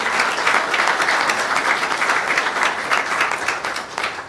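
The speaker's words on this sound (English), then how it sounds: "A warm round of applause for head coach" Sustained audience applause fills a gym for a high school head basketball coach being introduced at a state championship. The clapping is broad and even, and it tapers slightly at the end.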